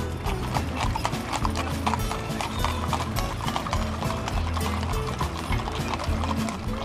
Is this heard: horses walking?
yes